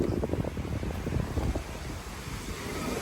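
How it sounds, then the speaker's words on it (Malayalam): Gusty wind at Irekadavu buffets the microphone, a constant low rumble with rough surges, steady and loud throughout. "കാറ്റ് നന്നായിട്ടുണ്ട് ശരിയാ"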